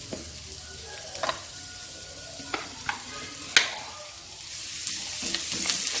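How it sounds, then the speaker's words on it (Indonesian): Shallots and garlic sauté in a pan for Korean tteokbokki, a soft steady sizzle broken by several sharp spatula clicks and scrapes, moderately quiet with no talking. "Lalu saya akan tumis terlebih dahulu bawang merah dan bawang putihnya."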